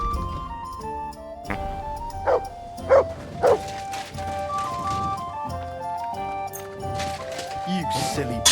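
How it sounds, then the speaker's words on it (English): A dog barks three times in quick succession in Kingdom Come: Deliverance II, loud and close, over background game music, with someone speaking around the barks. "You silly doggy."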